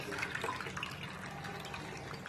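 Blended papaya leaf liquid pours through a sieve with a steady, close trickling and splashing that runs unbroken the whole time, no voices over it.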